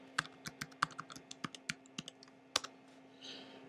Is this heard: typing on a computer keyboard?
yes